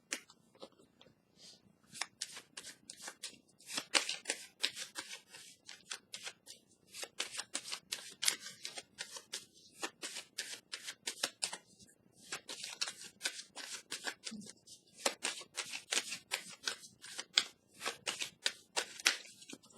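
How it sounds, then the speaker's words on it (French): Tarot cards shuffled and handled in a quiet room, a long run of crisp, rapid papery riffles and snaps in bursts, close and fairly soft, with brief pauses between flurries. "Je vais piger une carte ici pour le duo."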